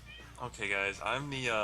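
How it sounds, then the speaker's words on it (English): A pet cat meows a few times, drawn-out and wavering, close to the microphone, mixed in with someone talking at the same moment. "That's my cat. Can you guys hear my cat?"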